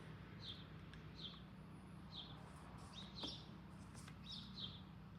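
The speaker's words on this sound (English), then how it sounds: "Birds chirping and what sounds like a pressure washer or something in the distance." Several short, high bird chirps repeat at intervals over a steady low mechanical drone in the distance.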